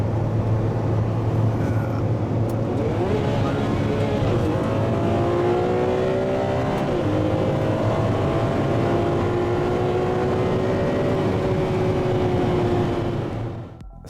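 A modified Porsche 911 GT2 race car, faster than the stock model, screams at high revs on track, its engine note climbing and dropping through gear changes in one continuous loud run before fading out at the end.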